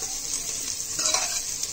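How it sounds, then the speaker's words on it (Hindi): Jackfruit and onions fry in a pan with a dense, continuous hissing sizzle and a brief swell of crackle as they are stirred, no talking. "कटहल फ्राई हो गया है और इधर अब प्याज भी ब्राउन होने जा रहा है"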